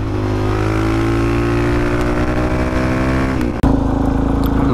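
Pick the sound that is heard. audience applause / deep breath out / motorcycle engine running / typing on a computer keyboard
motorcycle engine running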